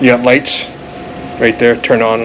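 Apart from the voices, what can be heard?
None of the usual background noises is heard.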